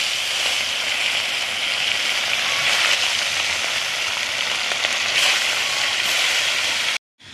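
Parshe fish sizzle in hot mustard oil, a loud, steady, crackling fry that holds unbroken for about seven seconds before cutting off abruptly.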